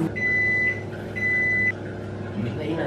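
A microwave oven running while heating food, a steady loud hum with two long electronic beep tones in the first two seconds, close by.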